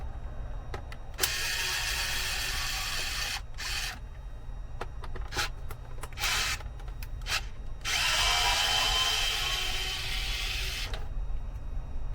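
A power tool driving screws into an Audi A3 2015 whirs in several bursts, short spurts first and then two longer runs, near and fairly quiet over a steady low hum.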